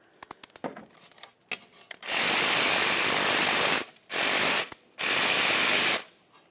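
A ratchet on 14mm caliper bolts of a Toyota Corolla front brake: a few quick clicks, then three long loud hissing bursts, close up with no talk.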